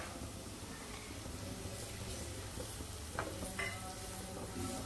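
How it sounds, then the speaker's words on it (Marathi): Goat brain being fried and stirred in oil for a bheja fry, a soft steady sizzle close by with a few quiet scrapes and clinks of a spoon in the pan. "आता हे तेलामध्ये थोडे मिक्स करून घेते। आणि आता ह्यामध्ये मी हा भेजा घालते।"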